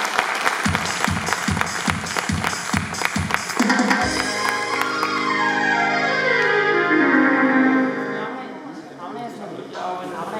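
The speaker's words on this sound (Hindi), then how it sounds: "भरपूर अंदाज में तालियां बजाइए" An audience at a live Jhoke TV anniversary event at Starlite in Multan claps in steady rhythmic unison for several seconds. Louder tonal sound and a voice take over as the applause fades beneath them.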